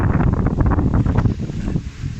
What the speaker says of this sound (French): je sais pas si vous allez m'entendre parce qu'il y a un petit peu de vent